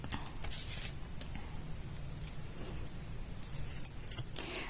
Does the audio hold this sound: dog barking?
no